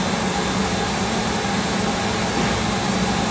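An oil or gas burner's fan motor runs with a loud, steady roaring whoosh of air that holds nearly constant while its speed is raised.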